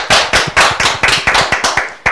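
A small group claps in quick, even rhythm, about a dozen sharp, close claps in two seconds.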